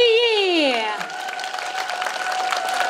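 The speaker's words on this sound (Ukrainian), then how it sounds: "Оплески Марії!" A voice calls out, then a crowd bursts into applause, steady clapping with a cheer carried over it.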